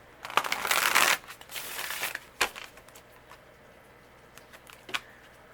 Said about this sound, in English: Let me shuffle this on camera for you guys.